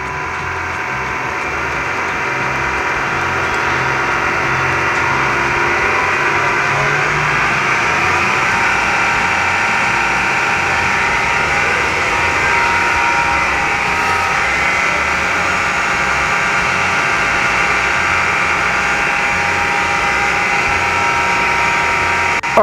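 A pump runs steadily and loudly while acaricide spray for cattle mixes under rising pressure, a continuous mechanical drone with a faint rattle that holds throughout, with no talking.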